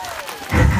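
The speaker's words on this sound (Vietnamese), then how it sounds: "có thì một tràng vỗ tay thật lớn hơn được không" A burst of loud audience applause and crowd noise breaks out abruptly partway through, following a quieter stretch, at a live event where a singer has just appeared on stage.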